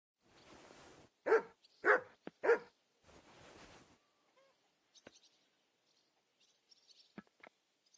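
A dog in the Kingdom Come: Deliverance 2 video game barks three times in quick succession, loud and close. Muffled noise comes before and after the barks, followed by faint game ambience with bird chirps.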